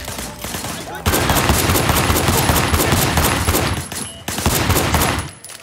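Rapid bursts of gunfire in the video game Sleeping Dogs, dense automatic volleys filling most of the stretch with brief lulls, loud and close alongside game action.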